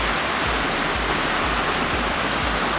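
Rain falling steadily around a parked car during a Toyota Supra MKIV rebuild, a dense, even hiss of drops with no pauses and no voices.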